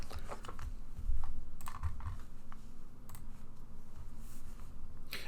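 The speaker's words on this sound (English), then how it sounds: "If you hear some clicking in the background, I'm sorry for the noise, but these are my chips." Poker chips clicked and shuffled by hand in a quiet room, a steady run of small, fairly faint clicks and clacks throughout.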